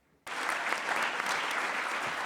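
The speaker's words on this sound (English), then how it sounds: "all the presenters deserve a round of applause" An audience at a global meeting on skin neglected tropical diseases bursts into applause for the presenters, starting abruptly and continuing as steady, fairly soft clapping.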